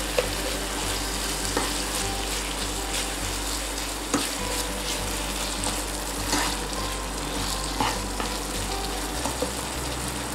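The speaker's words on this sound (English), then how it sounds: "Break apart the chunjang and stir fry for 2 minutes." Chunjang black bean paste sizzles and fries steadily in a hot pan while being stir-fried for Korean black bean noodles, a dense continuous crackle with occasional utensil scrapes, close and without speech.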